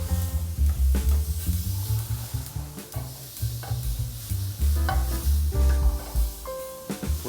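Shrimps cook in a single pot for a seafood platter, with a loud, continuous, close sizzle and bubbling churn and occasional stirring scrapes.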